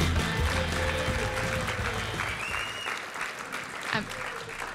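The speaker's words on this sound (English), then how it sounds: "Round of applause for Paul Dunn." Event audience applauding a speaker, a full steady patter of many clapping hands close by, with a few voices and cheers mixed in as it slowly eases off.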